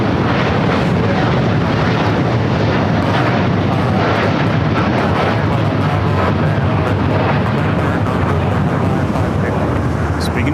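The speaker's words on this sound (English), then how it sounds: "this is a 787-9 going to Hong Kong, United Flight 801" A Boeing 787-9 Dreamliner jet, United Flight 801 bound for Hong Kong, at LAX: a loud, continuous broadband engine roar with a heavy low rumble and wind buffeting, sustained throughout.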